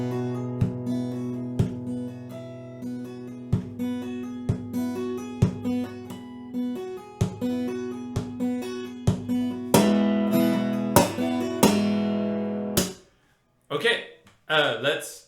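Solo acoustic guitar plays the intro of a piece, a steady run of plucked notes and bass with chords ringing out, building to a fuller, brighter strummed passage before a brief pause and a few final notes.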